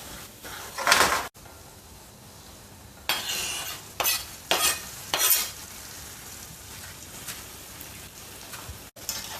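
Onions sweat gently in oil in a pan over low heat for a tomato and basil spaghetti sauce, a steady soft sizzle broken by several bursts of stirring and scraping nearby, with no talk.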